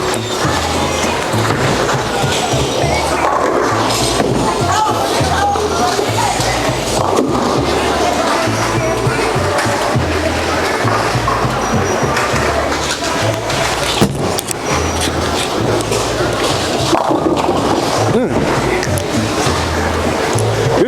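A Tour V1 bowling ball rolls down the lane with a steady, loud rumble that continues for about twenty seconds. Sharper clatters near the end suggest the ball reaching the pins.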